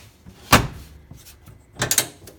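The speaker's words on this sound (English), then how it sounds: "Oop, open the door." An aftermarket Dirt Specialties door on a Can-Am Commander side-by-side opening, with a sharp latch clunk followed by a second pair of quick mechanical knocks, close and fairly loud, with no talking.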